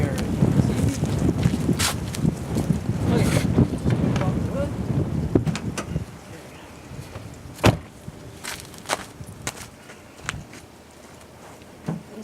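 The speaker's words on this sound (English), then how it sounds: "It's getting windy out" Wind blowing outdoors on a nasty, blustery day, loud gusty rumble buffeting the microphone, easing after a few seconds to lighter gusts with scattered knocks and clatter.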